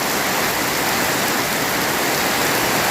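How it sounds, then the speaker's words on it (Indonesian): Heavy rain pours down in a rural village during the wet season, a dense, loud, even hiss of falling water with no break and no voices. "mudah-mudahan saja hujan ini hujan berkah ya, karena saat ini suasananya memang suasana musim hujan ya, musim penghujan."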